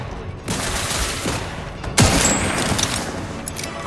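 Bursts of gunfire in The Outer Worlds 2, a sustained fusillade with sharp onsets around half a second and two seconds, continuing as dense shooting throughout at steady loudness.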